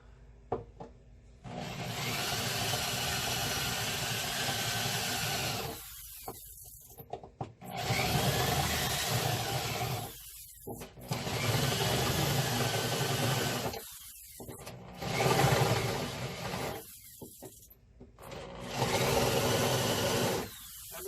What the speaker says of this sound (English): I'm using a bigger drill bit here